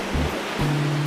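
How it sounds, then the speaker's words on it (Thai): Ocean waves washing onto a beach at Kui Buri in the early morning, a soft steady broadband wash of surf with a faint low hum underneath, no voices. "ยืนดื่มด่ำกับเสียงคลื่น"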